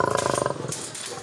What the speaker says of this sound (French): ce que redoute Thierry ce matin, ce sont les réactions de Congo, son lion.